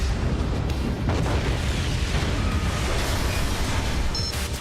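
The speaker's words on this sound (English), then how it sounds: "there's still missiles flying around everywhere" Missile explosions in the Assault Gunners HD video game, a continuous rumbling wash of booms and blasts, dense and loud throughout with no pauses.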